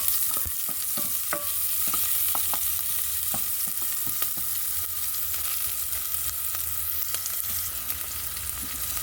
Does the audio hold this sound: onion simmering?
yes